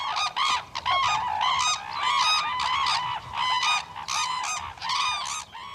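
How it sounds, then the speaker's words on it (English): Red-crowned cranes call in a loud, continuous chorus of bugling, honking notes, several birds overlapping in rapid bursts close by with no talking. "Their true name is the red-crowned crane"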